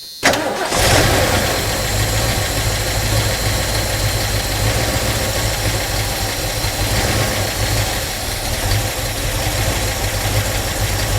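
A Ford Mustang Mach 1 engine cranks and fires after sitting on old gas, then settles into a loud, steady, slightly rough idle close by that runs on without a break.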